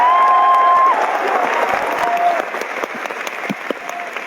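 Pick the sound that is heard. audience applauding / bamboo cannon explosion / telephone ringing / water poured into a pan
audience applauding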